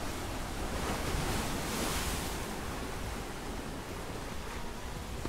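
Agitated water rushes steadily at a swimming spot along a hiking trail, a constant broad wash of splashing flow close to the microphone with no voices.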